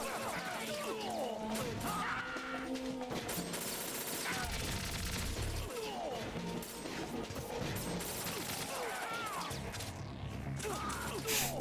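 Gunfire rings out in Metal Gear Solid 2, with repeated sharp shots and mechanical clatter over dense, busy game sound effects throughout.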